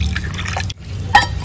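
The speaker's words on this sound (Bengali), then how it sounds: "জল দিয়ে আরেকবার ধুয়ে নিচ্ছি।" Water splashing and dripping while chhana cheese curd for rasgulla is rinsed by hand, a close, continuous watery slosh with a short break midway and a bright drip near the end.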